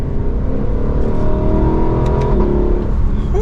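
Lexus LC500 V8 exhaust note revving in a 2024 model, a loud close rumble rising and falling in pitch over a few seconds.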